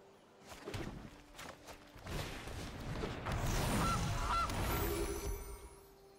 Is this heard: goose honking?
yes